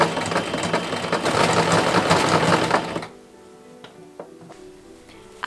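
A sewing machine runs a zigzag stitch to attach trim along the hems of 1890s ladies' undergarments. A steady, loud mechanical whir lasts about three seconds, then stops abruptly, leaving faint scattered ticks and clicks.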